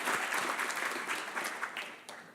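An audience applauds at a Parkinson's Foundation care talk, with dense, steady clapping from a room of people that tapers slightly toward the end.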